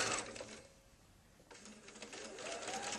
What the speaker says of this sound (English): Now I'm going to just line up the edge of my binding to the edge of my quilt and sew the duration